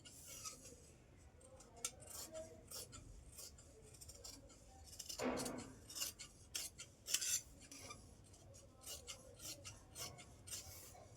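Scissors cut through marked cloth in a series of short, quiet snips and rasps, with one louder, longer cut in the middle; there are no voices.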